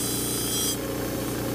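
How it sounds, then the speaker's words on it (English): A bench grinder runs steadily against the end of a metal piece, a loud, close, continuous grinding whine with a bright edge that drops partway through. "Bench grinder."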